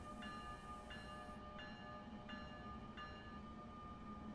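A train departing a station in Train Sim World 3 on the New York to Trenton line, a steady loud rumbling drone with regularly repeating clicks as the cars roll away, heard alone.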